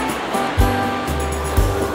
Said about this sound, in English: the waves are a lot higher in here